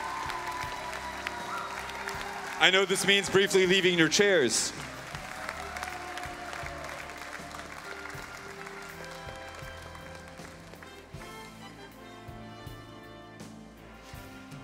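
Conference audience at the WSC 2019 Global Round in The Hague applauding and cheering the junior division coaches of the year, a burst of loud clapping and whoops after a host speaks, fading back beneath continued talk.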